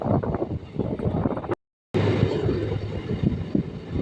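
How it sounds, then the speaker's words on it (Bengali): A MEMU train on the Lalgola–Sealdah line pulls out of the platform, a broad rumbling roar with wind buffeting the microphone, close and continuous apart from a brief dropout. "ধুলো উড়িয়ে আমাদের ট্রেন এখন প্ল্যাটফর্ম দিয়ে বেরিয়ে যাচ্ছে"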